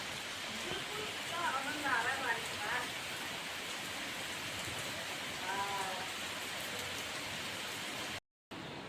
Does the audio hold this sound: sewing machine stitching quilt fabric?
no